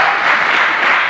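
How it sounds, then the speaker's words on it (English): Brief burst of dense, steady audience applause at a women's weightlifting meet, loud and continuous throughout. "Jane Burns, let's have a round of applause"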